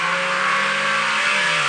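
Race cars coming off turn 4 in a Piston Cup 500 race, a loud, steady engine roar and whine held close throughout the brief moment.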